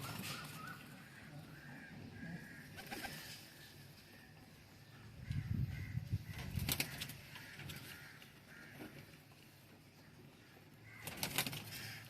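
Domestic pigeons offered at a pigeon sale coo softly in low, throaty rolls, with one clearer burst midway, amid faint rustling and background noise.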